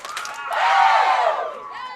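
Crowd at a high school state bowling team final erupts in a swelling cheer and shouts after a strike, loud for about a second before fading, with a faint voice at the start.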